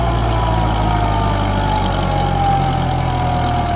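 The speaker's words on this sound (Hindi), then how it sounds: "पर भाई ट्रैक्टर ने हार नहीं मानी, ट्रैक्टर लेकर चल दिया ऐसे ही।" A Kubota MU 4501 tractor in four-wheel drive pulls a back harrow, its diesel engine a loud, steady low rumble under strain, close by and continuous with no speech.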